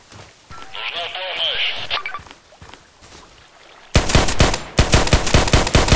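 Sniper gunfire in the Contract Wars shooter game comes as a rapid burst of loud, sharp shots in the second half, following a stretch of game sounds with talk over it.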